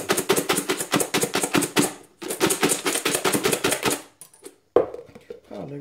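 Chana chor snack mix rattles hard inside a lidded plastic container, shaken in fast rhythmic bursts with a brief pause, then tapering into a few scattered knocks.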